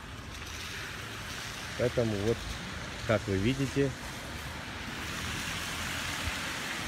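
Floodwater rushes through a flooded street on Portovaya, a constant broad roar of flowing water, while someone speaks Russian in two short bursts over it.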